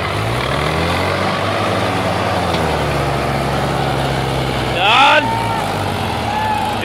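Tractor engine labors under heavy load with its rear tires sinking, a low, steady diesel drone grinding on throughout, with voices talking over it and a brief louder surge near the end.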